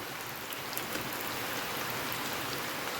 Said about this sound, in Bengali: আমার টিনের ঘর তো, বৃষ্টির আওয়াজ পাওয়া যাচ্ছে।